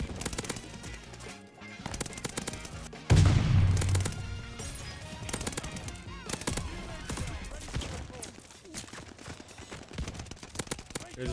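Rapid bursts of automatic gunfire in a Call of Duty match, loud and continuous, with a heavier boom partway through and shots repeating throughout.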